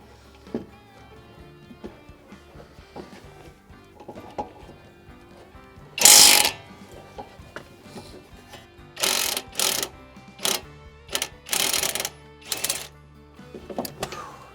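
Kobalt 24-volt Max right angle impact wrench loosening a bracket bolt, heard as one loud hammering burst and then a run of short, sharp impact bursts in quick succession, with no talk over them.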